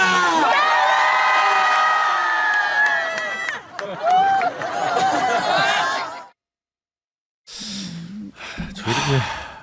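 At a political rally, a crowd shouts and cheers loudly for about six seconds with rising and falling voices, then cuts to silence before brief talk follows.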